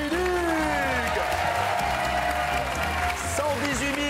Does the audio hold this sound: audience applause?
yes